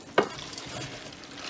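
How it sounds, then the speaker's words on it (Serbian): Fried button mushrooms and noodles are stirred together in oil in a pan for a truffle pasta dish, giving one short, close scrape near the start, followed by a faint, quiet sizzle. "to sve fino ovako izmiješamo"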